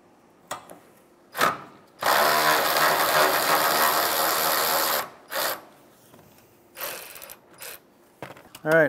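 Ratchet wrench spinning off 12 mm bolts holding the A/C condenser of a 2011-2016 Hyundai Elantra, a loud steady three-second burst of rapid clicking with a few short ratchet strokes and handling noises before and after.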